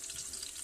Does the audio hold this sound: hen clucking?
no